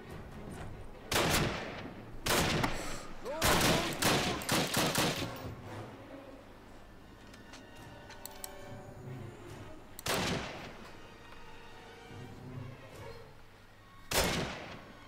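Gunfire in a Call of Duty campaign mission, loud close bursts of rapid shots and single cracks in irregular clusters, with quieter battle noise between them.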